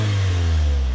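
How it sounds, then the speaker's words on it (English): A 2017 Volkswagen Golf GTI's 2-liter turbocharged four-cylinder holds a loud, steady, droning rev, a strong low hum heard up close with no talk. "This 2-liter turbocharged four-cylinder makes 220 horsepower on premium fuel."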